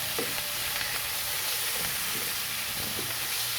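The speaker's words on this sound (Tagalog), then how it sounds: "Isahin natin bawang at sibuyas" Garlic and onion sautéing in a pan before chicken breast is added, a dense continuous close sizzle with a few faint stirring knocks, no voices.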